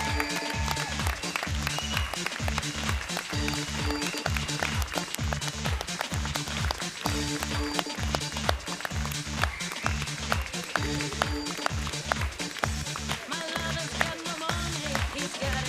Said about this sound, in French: un tonnerre d'applaudissements pour tous les bénévoles